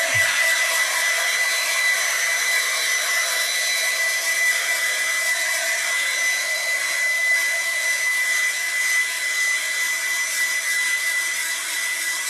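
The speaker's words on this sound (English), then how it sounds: "going to dry it with the little hair dryer here" A small hair dryer blows over a watercolour painting, a steady high-pitched whine with airy rush that runs unbroken and close for the whole stretch, no talking over it.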